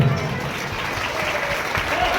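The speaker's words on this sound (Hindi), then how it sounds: "एक बार पूरी माताओं के लिए जोरदार तालियां बजाएं आप सभी लोग।" Crowd at a religious procession gathering clapping loudly for the mothers, a sustained, full wash of applause from many hands lasting throughout.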